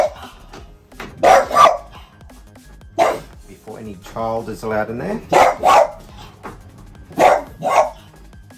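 A dog barks indoors in short bursts of two or three sharp barks spaced across the stretch while a cot is being assembled; a person speaks briefly between the barks.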